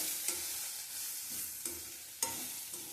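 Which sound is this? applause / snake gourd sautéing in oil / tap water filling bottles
snake gourd sautéing in oil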